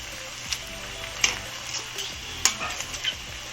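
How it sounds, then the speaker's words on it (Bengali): Potato laccha pakora frying in white oil in a kadai, a soft continuous sizzle with light stirring clinks and scrapes, close and fairly quiet, with no talking. "এটা সাদা তেলেই ভাজতে হবে।"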